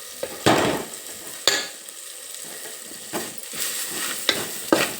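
Dry chillies with cumin seeds stirred and roasted in a pan for masala, giving a steady close sizzle with repeated scraping stirs and spoon clinks, no talking.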